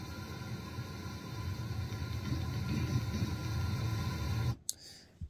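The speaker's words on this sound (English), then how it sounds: "I'm going to just do correlated pink noise, and you're going to probably hear it" Correlated pink noise test signal plays as a steady, even hiss-like wash, continuous and moderately loud for several seconds before cutting off abruptly near the end.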